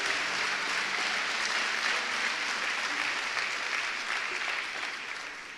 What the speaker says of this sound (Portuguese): você pode aplaudir mais forte